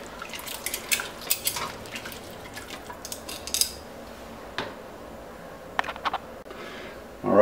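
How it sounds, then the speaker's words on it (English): Utensil scraping and clinking in a pan with onions glazing the bottom for Hungarian goulash, several quick clatters spread across the clip with quieter stretches between, then a louder knock at the very end. "Give that a little stir"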